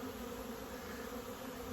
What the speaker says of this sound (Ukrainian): Це молода бджола